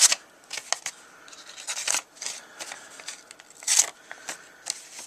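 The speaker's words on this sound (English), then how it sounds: "We're going to cut your paper." A sharp blade slices through paper packaging in a series of quick, crisp rasping strokes and crinkles, irregular bursts separated by short quiet gaps, close and fairly soft.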